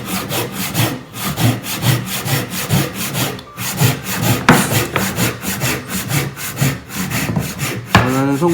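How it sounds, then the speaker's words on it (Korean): Hand saw cutting diagonally into wood during joinery practice, a loud rhythmic rasp of back-and-forth strokes with brief pauses between, close up and without voices. "지금 나쁘지 않게 들어갔어요. 자, 그래서 이런 식의 톱질인데"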